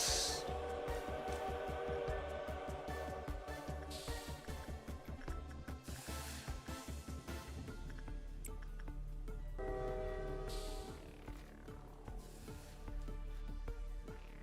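A train rumbles through in the video game Lobotomy Corporation, a steady mechanical roll under game music with a rhythmic clatter early on and a horn-like tone rising near the end, moderately loud and without speech.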